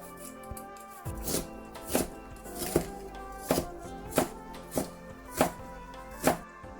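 A fillet knife working through a piece of pork fillet to remove the vein, heard as about ten crisp, evenly spaced knocks on a cutting board, close and fairly quiet.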